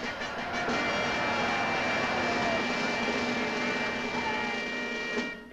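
Steady, loud roaring rush of a rocket engine sound effect from a 1956 Disney space film, holding for about five seconds before cutting off abruptly.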